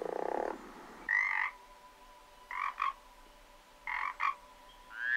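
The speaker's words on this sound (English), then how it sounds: "Listen to frog sounds." Frogs croak in short bursts, one long call then several paired croaks spaced out, fairly close against a quiet background.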